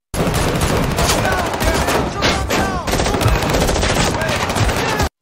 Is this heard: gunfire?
yes